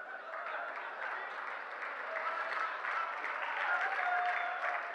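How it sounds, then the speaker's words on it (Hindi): Audience applause at a Haryanvi comedy poetry show, steady dense clapping from a crowd sustained evenly for the full stretch with no talk over it. "तालियां कम बजा रहे हैं"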